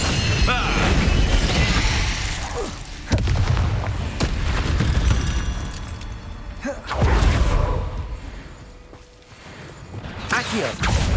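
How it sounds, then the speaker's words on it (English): Spell-casting blasts in Hogwarts Legacy on PS5, with loud booming explosions and sharp impacts recurring every few seconds over a dense, continuous layer of combat effects and game sound, with no voice. "Confringo!"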